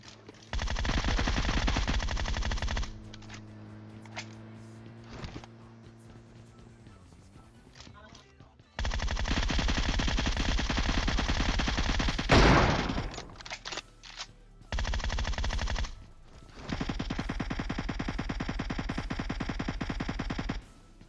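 Automatic weapon fire in the mobile game PUBG Mobile, with long, loud, rapid bursts separated by pauses and quieter in-game sounds, and someone talking at intervals.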